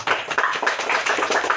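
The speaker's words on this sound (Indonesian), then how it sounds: "Luar biasa, tepuk tangan." Applause from an audience at an outdoor art-camp discussion session, a dense, steady patter of many hands clapping up close for the whole stretch with no voices.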